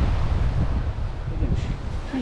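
Wind buffets the microphone with a low rumble while sea waves wash at a shore near a campground, steady and fairly loud throughout.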